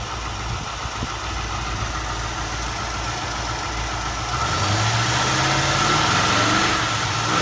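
A 4.0-litre Rover V8 in a 1977 MGB idles steadily up close, a loud, even engine rumble whose pitch rises slightly partway through.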